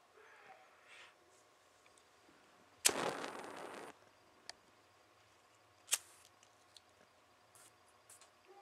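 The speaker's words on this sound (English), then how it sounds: "You can hear the butane leaking out." Butane gas hisses from a homemade mini flamethrower in one sharp, loud burst of about a second, followed by a few faint clicks and ticks in an otherwise quiet room.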